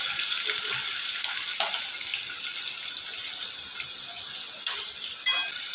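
Finely chopped onions hit hot oil in a pan for a methi and cauliflower-potato sabzi, giving a steady bright sizzle and crackle throughout with a few sharper pops and stirring clicks, close and continuous.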